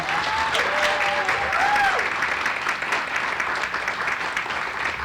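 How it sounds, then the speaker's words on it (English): Audience applause at a Women's History Month celebration event, a steady broad wash of clapping filling the room throughout, with a few faint whistles or voices rising over it early on. "Please give them another round of applause."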